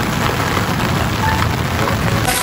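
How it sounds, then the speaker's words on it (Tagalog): Heavy rain pours down in a dense, loud, continuous hiss of drops striking surfaces close by, with no voices. "Bumuhos na naman po ang ulan."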